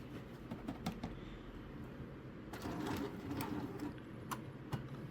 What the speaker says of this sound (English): the printer head gonna start to do a little moving